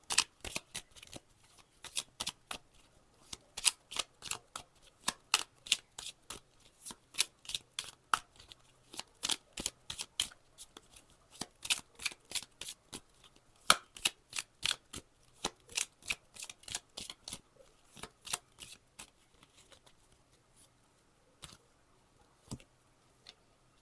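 Oracle cards shuffled for a card reading, producing a long run of crisp, rapid riffling clicks in quick bursts with short pauses, close up and alone.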